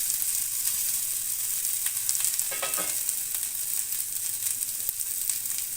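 Idli pieces frying in oil, a steady close sizzle with crackling throughout and a brief louder burst near the middle; no one talks.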